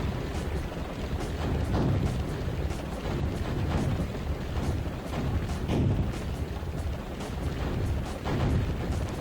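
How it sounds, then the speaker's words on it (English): Repeated booming cannon blasts from the Frogger 2: Swampy's Revenge video game, heavy low thuds landing every second or two over a dense, continuous rumble of game noise. "These cannons are just horrendously placed."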